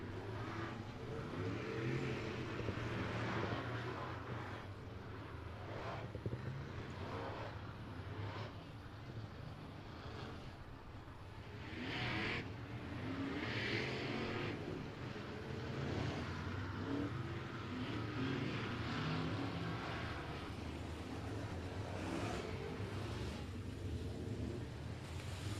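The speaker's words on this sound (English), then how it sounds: "IMCA Modifieds taken to the track for some hot laps." IMCA Modified race cars running hot laps at I-37 Speedway, a distant, continuous engine drone that rises and fades as cars circle the track, with a few louder passes and no nearby voices.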